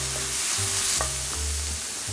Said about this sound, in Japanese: 一番最初にネギと人参を炒める。